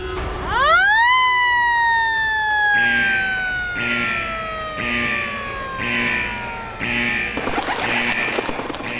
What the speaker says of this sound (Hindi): जल्दी अपने सायरन ऑन करो